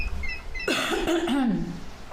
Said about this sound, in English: Oh, excuse me, I need to cough.